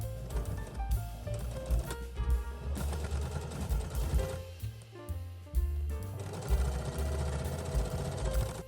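A sewing machine runs a straight stitch along the edge of a zippered makeup pouch, a close, rapid rhythmic clatter that speeds and slows in bursts with brief stops.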